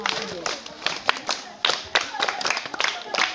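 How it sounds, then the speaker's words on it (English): Children clap for a classmate in a classroom spelling contest, giving a short burst of uneven, close handclaps with a voice or two mixed in. "Clap for her."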